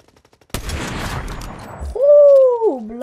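A sharp sniper rifle shot in Fortnite, a sudden loud crack that rolls into a noisy tail, followed by a rising and falling tonal whine from the game, close and without speech.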